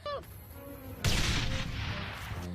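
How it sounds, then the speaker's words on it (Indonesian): A bomb explosion in the action film Rogue Warfare bursts suddenly after a faint tonal beeping, a sharp loud blast followed by a rumbling, debris-filled roar that slowly fades. "Seketika bom itu pun meledak dan menghempaskan para anggota tim"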